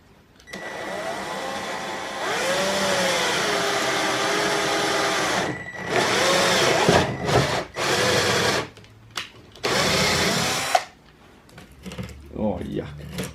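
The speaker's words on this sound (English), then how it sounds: "So grab my drill bit and drill away." A power drill whines into the plastic skirt of a Spec R body kit, long sustained runs broken by short bursts and pauses, loud and close.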